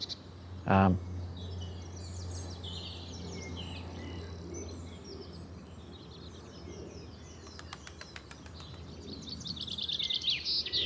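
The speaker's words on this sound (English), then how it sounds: "I just heard chaffinch singing. There's layers of bird song going on." Layered outdoor birdsong with a chaffinch singing among other birds, a steady chorus of chirps and calls at moderate distance, with a loud low thump early and some brief rapid clicks near the end.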